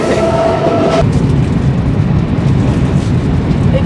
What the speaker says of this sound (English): we made it on the train.